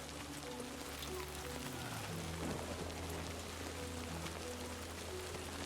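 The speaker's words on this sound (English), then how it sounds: "it's incredibly intense with the rain" Heavy, steady rain falls throughout a stormy scene in the video game Death Stranding 2: On The Beach. A dense hiss of downpour runs the whole time, over a low droning rumble and some sustained game tones.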